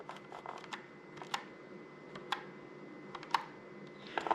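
Keys on a computer keyboard click faintly in sparse, irregular taps and small bursts, with a few sharper keystrokes standing out in an otherwise quiet room.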